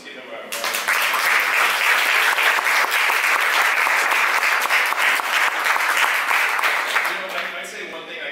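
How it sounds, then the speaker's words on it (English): An audience at a campaign event breaks into loud sustained applause, dense clapping that swells quickly and holds steady for several seconds before tapering slightly at the end. "Let's give them a round of applause."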